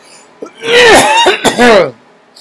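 A person clears their throat and coughs a few times in quick succession, close and loud.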